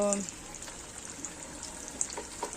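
Chop snacks frying in hot oil in a home kitchen, giving a steady close crackle and hiss with a few brief pops and clatters, and no talk over it.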